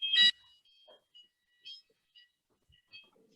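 A home fire alarm gives one sharp, piercing burst, followed by faint, scattered beeps and chirps in an otherwise quiet room.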